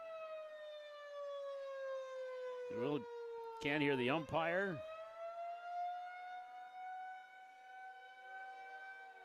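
A civil defense siren wails steadily through the clip at an outdoor college baseball game, its rising tone loud and sustained while a person talks over it in a few short bursts.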